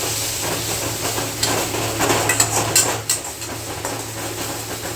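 Water poured into frying fish masala for koi fish curry brings a loud, dense hiss and sizzle, with brief clinks and bubbling bursts near the middle. No voices.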